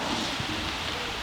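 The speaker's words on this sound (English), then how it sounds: "it started raining" Steady rain falls outdoors as a dense, even wash of hiss with no let-up, fairly loud and close, no voices.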